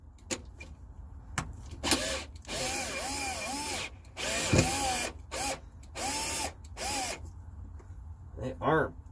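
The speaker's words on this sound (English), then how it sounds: "These are square number 2 bits, so I'm going to start down at this end and just remove it." A power drill with a square No. 2 bit backs self-tapping screws out of a soft RV bathroom floor in several short whirring bursts, close and fairly loud, with pauses between screws.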